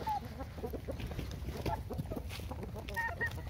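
Giant Índio breed hens cluck repeatedly at a farm, with short overlapping calls near and at middle distance over a steady yard background; a rooster is among them, and no one speaks.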